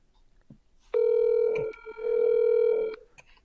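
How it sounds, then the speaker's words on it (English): An electronic phone ringtone plays two steady tonal bursts, the second after a short gap, loud and close with no voices. "Why does this phone call keep coming through?"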